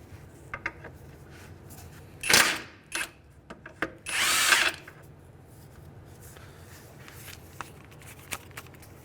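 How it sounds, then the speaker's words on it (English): An impact wrench removes a 19mm castle nut from a lower ball joint on a Honda Element, firing two short, loud rattling bursts among faint clinks of tools nearby. "Now we can take our castle nut off of our ball joint, which is going to be a 19mm. And again, we're going to use our impact."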